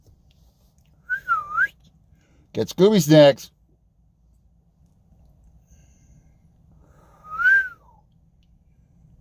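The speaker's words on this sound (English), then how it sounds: "The lab reacts to the whistle." Two short rising-falling whistles call a Labrador and other dogs during a rescue in San Timoteo Canyon near Redlands, one whistle before and one after a person speaks, in a quiet outdoor setting.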